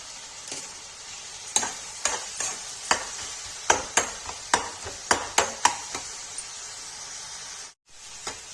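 Masala frying in a pan for Kashmiri chana dal while being stirred, with a steady sizzle broken by a dozen or so sharp, irregular scraping strokes of the spoon, fairly close, with no voices.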